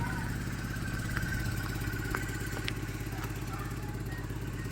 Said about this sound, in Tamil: வண்டி ஐட்லிங் வந்து நல்லா இருக்குது